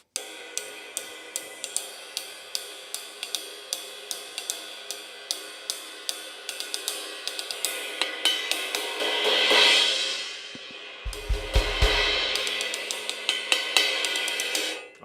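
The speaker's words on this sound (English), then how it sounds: "I'll just play the sound of this cymbal by itself" Zildjian Gen16 electronic cymbal struck alone in a drum clinic; a steady series of bright, close strikes at an even pulse, then a wash of sustained shimmer and a brief low thump before the hits resume, with no voice.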